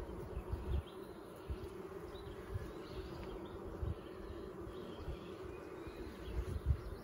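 Honeybees buzzing at an open hive during a hive check, a soft, steady low hum of many wings with faint scattered knocks, fairly quiet and close, no voices.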